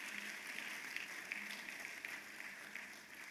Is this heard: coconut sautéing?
no